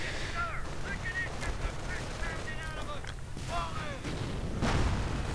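Mortar shells firing in a Company of Heroes-style match against Wehrmacht forces, heard as dull repeated booms mixed with scattered gunfire and battle noise, with a voice talking over it throughout.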